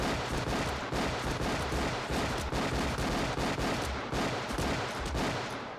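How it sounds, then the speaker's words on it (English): A dense movie action-scene barrage from Hard Target, with rapid, sustained gunfire as a mummy is shot about thirty times, loud and continuous throughout with no pause and no speech. "he slides realistically across the ground before shooting the mummy 30 times"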